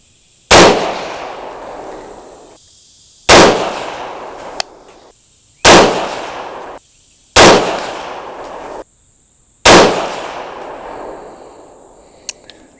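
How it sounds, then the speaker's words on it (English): Five loud rifle shots at a shooting range, fired several seconds apart, each a sharp crack followed by a decaying echo, with no talking. "I'll give the gun a second to cool back down and we'll shoot the second group."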